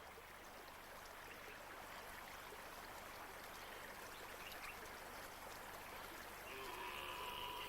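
Seasonal streams gushing along the bottom of scarp slopes into water holes make a steady, even wash of flowing water throughout, moderately distant and unbroken, with no voices.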